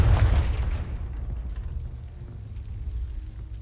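A Confringo spell explodes in Hogwarts Legacy: a deep, heavy boom that hits at once and then rumbles away over a few seconds.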